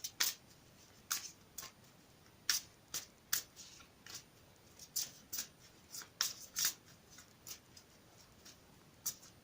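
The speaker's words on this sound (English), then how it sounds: "I will shuffle them again for you on camera" Tarot cards being shuffled in a steady series of crisp, riffling bursts, close and fairly quiet, with no talking.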